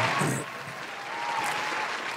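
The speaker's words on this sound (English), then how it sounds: "round of applause" Brief applause rises on a podcast set, a short burst of clapping that settles into a softer, steady patter for a couple of seconds.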